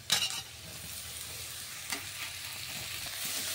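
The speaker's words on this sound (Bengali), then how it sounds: "দেখুন ভালো করে সবকিছু নাড়িয়ে আমি মিশিয়ে নিয়েছি" Grated cauliflower and carrot are stirred into fried coconut, onion and chili in a pan, giving a steady close sizzle with a few sharp scrapes near the start and again around the middle.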